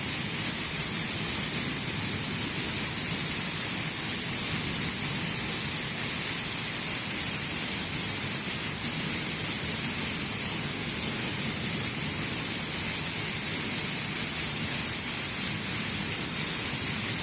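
A fast, heavy storm downpour near Sargodha in Chak 45 SB rushes in a constant, unbroken wash of noise, loud and even from start to finish, with no talking.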